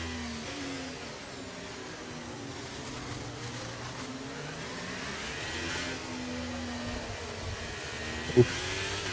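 Open-wheel Formula 1 race car engine in the F1 23 racing game at Monaco, a steady droning whir with shifting pitch as the car spins around, one sharp click near the end.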